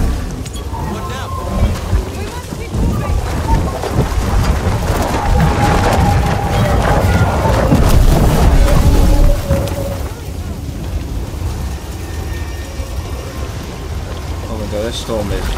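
Loud, roaring storm wind and crashing waves rage at sea in Star Wars Jedi: Survivor, buffeting continuously and peaking midway, with faint voices and tones mixed underneath.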